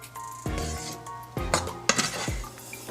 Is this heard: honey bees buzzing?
no